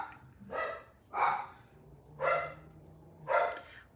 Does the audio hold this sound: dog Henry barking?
yes